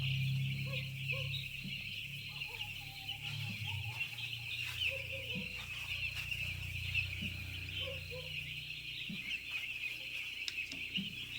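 Four-day-old poultry chicks in a farm shed keep up dense, continuous peeping and cheeping over a steady humming background, with soft thumps scattered throughout.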